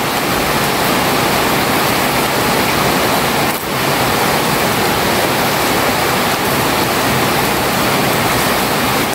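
Heavy rainwater from the road pours down steadily during a typhoon in a loud, continuous rushing roar, like runoff cascading into a drain, close by and unbroken.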